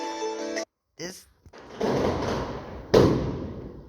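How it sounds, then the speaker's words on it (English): Fireworks go off outside, heard as muffled booms and a sharp crack with rumbling tails after a brief tonal voice-like sound at the start. "Those damn fireworks."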